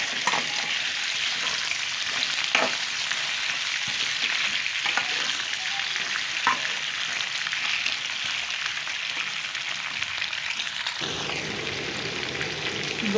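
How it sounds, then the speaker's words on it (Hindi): Potatoes, washed and dried, frying in very hot oil for a spiced okra and potato dish: a steady loud sizzle throughout with occasional sharper crackles and pops, no talking. "अब इसमें मैं आलू डालूंगी। तेल काफ़ी गर्म हो चुका है"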